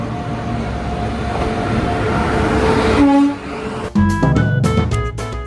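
A Sealdah–New Jalpaiguri Humsafar Express pulls into a station at night with a loud continuous rumble of rolling wagons, followed by tonal horn-like blasts and clanking near the end.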